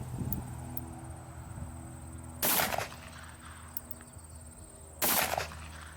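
Two sharp gunshots from a Taurus 992 revolver firing .22 Magnum rounds into homemade ballistic gel, about three seconds apart, each a short loud crack over a quiet outdoor background with faint insect and bird sounds.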